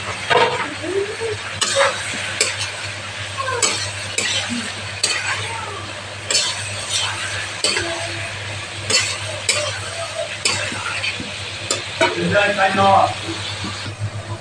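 Paneer cubes frying in a pan with finely chopped carrot and capsicum for pulao, with steady sizzling, repeated stirring and spoon scrapes against the pan running under a voice.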